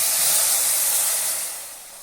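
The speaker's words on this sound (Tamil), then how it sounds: "தேவையான அளவு தண்ணி ஊற்றிக்கணும்" A loud, steady hiss and sizzle as water is poured into a hot pan of potato masala fills the clip and eases slightly toward the end.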